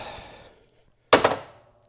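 A motorcycle's camel toe side stand snaps up with a single heavy thud and a brief rattle, following a quieter stretch of mechanical noise.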